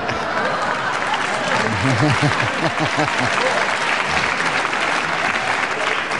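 A wrestling crowd at a televised bout claps and cheers steadily throughout, a dense roar of applause with a few voices rising above it.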